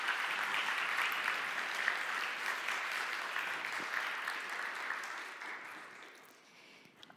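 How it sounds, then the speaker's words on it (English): A conference audience at the Budapest Global Dialogue breaks into sustained, dense applause that carries steadily for several seconds before tapering off near the end. "Let's give him a big round of applause."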